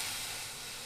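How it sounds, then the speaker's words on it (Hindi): Buttermilk poured into a hot pan for a potato and green pea (aloo matar) curry, giving a short, steady, loud hiss of steam and sizzle with no talking. "अभी हम डाल देंगे ये मट्ठा"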